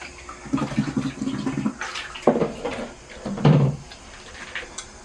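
Water pours and splashes in short bursts over a bonsai pot of sand and rocks, with a few hollow knocks between them, close by and fairly loud.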